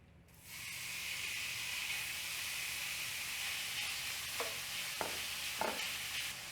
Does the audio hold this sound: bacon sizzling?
yes